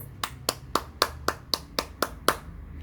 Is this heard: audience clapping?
yes